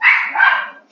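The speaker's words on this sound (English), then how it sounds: "Sorry, it's my dog." A pet dog gives one loud, close bark that trails into a drawn-out, slightly whiny yelp, with a short new sound starting just at the end.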